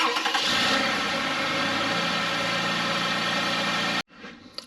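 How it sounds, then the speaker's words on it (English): A car engine, just fitted with a new serpentine belt, fires up and settles into a steady loud idle with a constant hum, then cuts off abruptly near the end, leaving near silence. "After we started our engine,"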